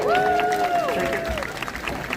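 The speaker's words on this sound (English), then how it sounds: "Give him a big giant round of applause." A crowd at a Renaissance festival applauds and claps at a steady level while a voice shouts over the noise.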